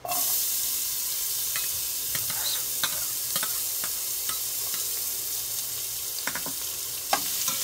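Garlic sautés in a hot pan for callos, giving a continuous close sizzle broken by occasional scraping stirs and small clicks, with no voices.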